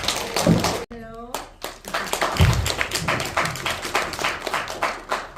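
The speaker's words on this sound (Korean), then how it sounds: "뜨거운 박수 부탁드립니다" Audience clapping and tapping at a poet's first poetry collection book launch in a hall, welcoming the poet to the stage; scattered claps come in bursts across several seconds, mixed with crowd voices and a brief pitched tone.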